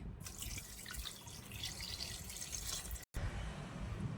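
Water from a glass poured into a pot of salted beef with salt, a steady splashing trickle at close range with no talking.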